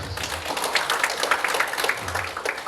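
Audience applause at a Wanita Islam DKI Jakarta leadership inauguration ceremony, a dense patter of many hands clapping steadily for a few seconds in a hall.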